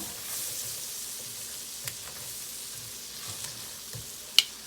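Butter melts in a hot pan with a faint, steady sizzle while it is stirred. A few light clinks of a utensil sound, and one sharper tap comes near the end.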